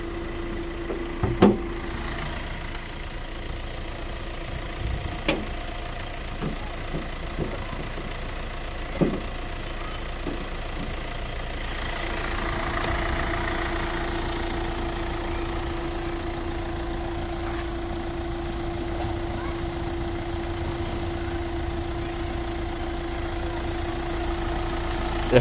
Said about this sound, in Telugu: ఒకసారి బానెట్ పిక్ చేస్తాను. ఇంజన్ మీరు చూడండి ఎంత బాగుండిద్దో దీని ఇంజన్.